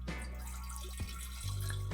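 Spring water trickles and splashes steadily into a glass tea kettle, with a low hum underneath; the pouring tone shifts as it fills.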